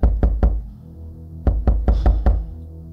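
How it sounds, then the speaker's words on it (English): Several sharp knocks on a door, three quick raps, a pause, then a second run of four or five knocks, loud and close with nothing else heard. "Who's that rapping at my door?"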